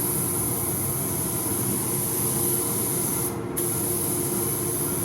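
A second coat of paint goes on with a steady, close spray hiss that runs almost without a break, dropping out only for a moment before resuming at the same level.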